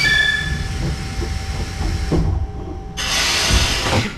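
A Keifuku Electric Railroad Mobo 621-class tram pulls away on the Katabiranotsuji–Kitano-Hakubaicho line, with a steady motor hum, mechanical clunks and rattles, and a brief hiss midway, heard close from inside the car.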